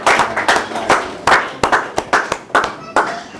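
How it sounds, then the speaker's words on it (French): A church congregation clapping, loud close handclaps in an uneven rhythm with overlapping bursts, likely mixed with voices. "Est-ce qu'on peut applaudir le roi des rois?"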